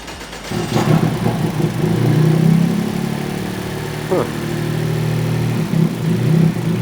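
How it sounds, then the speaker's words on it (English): Close by, a turbocharged GR Yaris engine swapped into a classic car starts up and runs through a custom exhaust, muffled idle with a couple of blips of revving, under a voice talking. "we can hear it in action through that custom exhaust"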